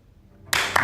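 Applause from a crowd of clockmaking businessmen in a dramatized meeting, bursting in suddenly and loud after a near-silent moment and holding steady.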